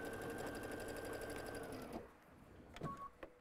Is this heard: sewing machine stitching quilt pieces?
yes